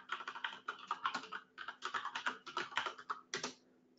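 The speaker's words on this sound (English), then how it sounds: "Let me type that in." Typing on a computer keyboard comes through as quick, light keystroke clusters in short runs with brief pauses, close and fairly quiet, with no talking over it.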